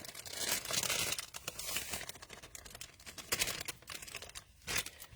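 Dry cake mix being poured from an opened packet into a bowl, a continuous close crinkling, rustling hiss of packet plastic and falling powder, with brief dips and surges and no talk.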